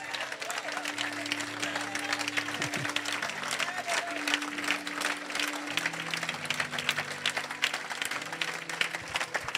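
A church congregation applauds and cheers at length, a dense steady wash of clapping with voices and sustained tones running underneath throughout.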